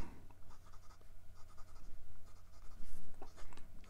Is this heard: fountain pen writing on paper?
yes